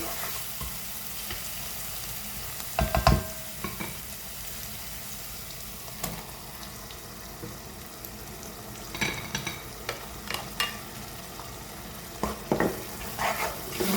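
Pounded capsicum frying in olive oil in a pan: a low, steady sizzle broken by scattered spoon clinks and stirring scrapes.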